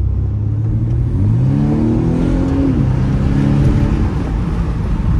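A BMW M135i in sport mode accelerates through town, its engine note climbing in a loud, close rev that rises, peaks and then eases into a steady drone.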